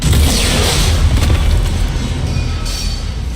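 A bomb explosion in the video game Mass Effect Legendary Edition, a loud deep boom with heavy rumble that stays dense and slowly fades with debris-like crackle across a few seconds.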